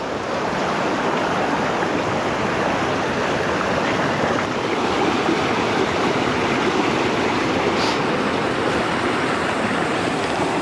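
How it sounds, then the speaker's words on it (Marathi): Rain-swollen village stream rushing steadily during a heavy monsoon downpour, a loud, continuous broadband wash of flowing water with no voices. "पाणी पण बघा मस्त छान वाहतंय."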